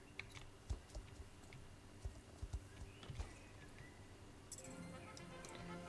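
Horse hooves clip-clop in an uneven series of sharp, close strikes as the horse is ridden, with faint background noise and a soft whinny-like tone near the end.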